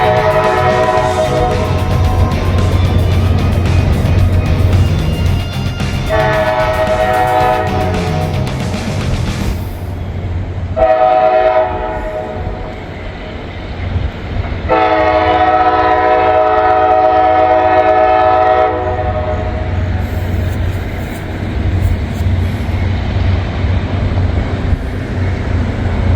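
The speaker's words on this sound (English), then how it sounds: "A train coming." A CSX train rumbles past steadily while its horn sounds in several long, loud blasts, the last ones sustained and bright.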